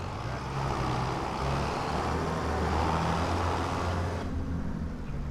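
A tractor engine drives steadily in Farming Simulator 25 with a small trailer in tow, giving a continuous low rumbling drone that stays loud and even before easing slightly near the end.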